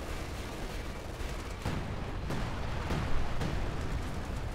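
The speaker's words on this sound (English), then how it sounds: "he's just trying to get close to do a precision barrage" Precision artillery barrage in Company of Heroes 2, a series of distant muffled shell impacts thudding at irregular intervals over a steady, noisy battlefield rumble.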